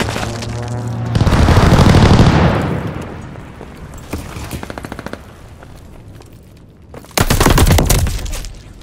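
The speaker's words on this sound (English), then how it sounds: "Hostile strafe inbound!" Strafing fire in Call of Duty Vanguard: a loud sustained roar of gunfire and blasts, then a rapid rattling burst, a quieter stretch, and another heavy burst of firing near the end.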